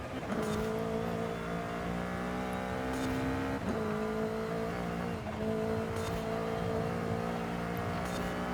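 Car engine in the Forza Horizon 5 video game revving hard on a hill climb, a steady high-pitched whine holding through the clip with brief dips at shifts, loud and close, no talking.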